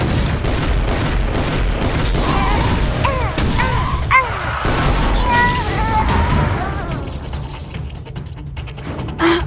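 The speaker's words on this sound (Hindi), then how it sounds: "फैंटम लेजर आक्रमण!" Cartoon phantom laser attack effect in a car battle: a loud, continuous barrage of blasts, crashes and zapping sweeps with warbling tones, ending in a louder hit.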